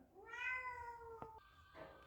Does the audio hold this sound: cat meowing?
yes